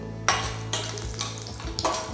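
Dry red chillies, peanuts and cashews frying in oil for lemon rice, a close, loud sizzle with three or four bursts of stirring and metal spoon scrapes.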